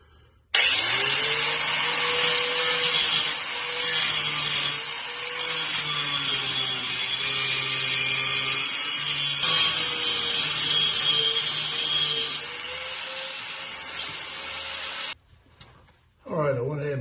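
A saw cuts through flexible exhaust pipe being fitted to a 1973 Dodge Charger, giving a loud, steady grinding rasp for about fourteen seconds before it stops, followed by brief handling noise.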